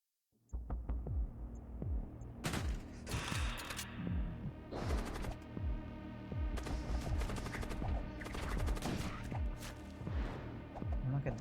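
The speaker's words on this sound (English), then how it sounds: "It's artillery." Artillery fire in the space combat game Void War booms in rapid, irregular volleys after a brief silence, the heavy thuds overlapping into a continuous barrage with a low throbbing hum beneath.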